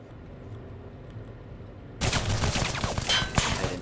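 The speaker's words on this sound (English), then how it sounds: "I like using this part as cover right here and slowly trying to gun down the turrets" Automatic turrets open fire in the S.T.A.L.K.E.R. Goldsphere OGSR mod in the D Valley and X-18 Lab area: a quiet ambient lull gives way to a sudden burst of loud, dense, rapid gunfire.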